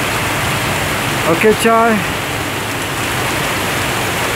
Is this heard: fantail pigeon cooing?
no